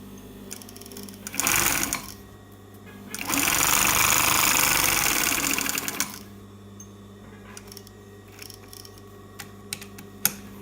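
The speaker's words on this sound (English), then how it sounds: "the sewing machine that I'm using is a Pfaff 463 and it's an" An industrial Pfaff 463 sewing machine stitching a knitted seam runs in two bursts, a short one and a longer steady buzzing run of rapid needle strokes, with quiet gaps and faint handling clicks between.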